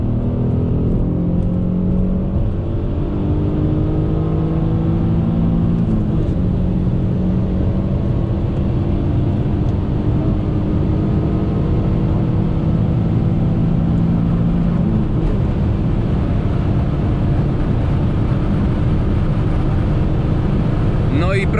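A 2003 Alfa Romeo 166 with a 3.0 V6 pulls hard from 100 to 200 km/h on the Autobahn, its engine droning loudly and steadily rising in pitch under heavy wind and road roar from inside the cabin.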